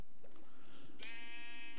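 Within the Minecraft video game, a sheep gives one short, faint bleat near the end over a steady background hiss, with nothing else happening.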